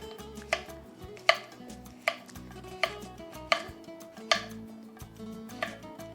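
A knife chops zucchini on a cutting board with regular sharp knocks about every three-quarters of a second, close and clear, while preparing calabacitas con pollo.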